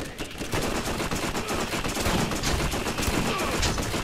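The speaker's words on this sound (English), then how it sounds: "This is essentially a long range shotgun because the ammo like just keeps going like after you fire it" Loud, continuous gunfire from a long-range shotgun in Borderlands, a steady dense barrage of shots with no clear gaps and no speech.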